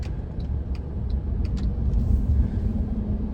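A car driving on a campus road, heard from inside as a steady low engine and road rumble with faint clicks over it. No talk.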